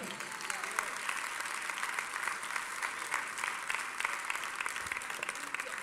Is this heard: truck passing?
no